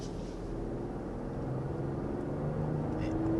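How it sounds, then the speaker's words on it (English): A 2023 BMW X7 or Mercedes GLS luxury SUV with a mild hybrid engine accelerates, a steady low engine drone and road rumble heard from inside the cabin, rising slightly in loudness. "It's just such a strong motor, yeah. Pulls really strong."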